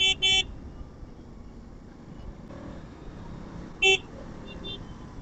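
Car horns honking in highway traffic, two quick toots at the start and another short honk later, over a low, steady traffic rumble with no talking.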